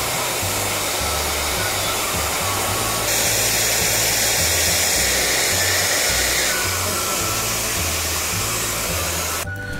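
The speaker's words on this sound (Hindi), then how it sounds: "अब हेयर ड्रायर का यूज करके हम लोग, या आपके पास अगर हॉट गन है तो आप वो भी यूज कर सकते हो" A hair dryer blows hot air onto a heat-shrink grip on a Bajaj Dominar 400 motorcycle handlebar, a loud, close, continuous whooshing roar whose pitch shifts as it moves, then abruptly clicks off.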